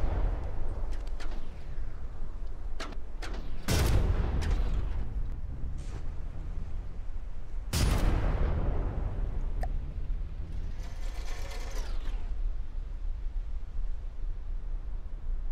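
Cannon fire in the naval combat game From the Depths, two heavy booming blasts several seconds apart over a constant rushing background, with smaller distant thuds between.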